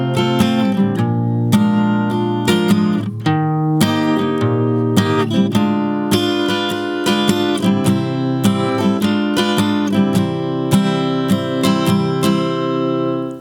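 A song on guitar at a slow tempo, with dense, continuous fingerpicked chords and moving bass notes ringing loud and close for the whole stretch, no talking.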